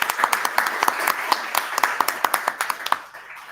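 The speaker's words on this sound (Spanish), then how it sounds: "pido un aplauso para todos ellos" Applause from a modest audience at a preparatory conference in Tucumán, with distinct individual claps in an uneven rhythm, fairly close, tapering off near the end.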